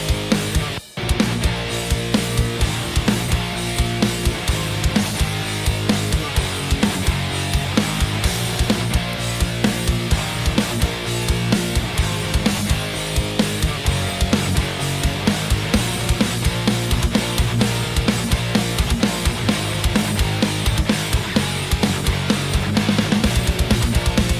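A dense, loud full-band music loop with driving EZdrummer 2 drums and steady percussion hits throughout, no talking over it.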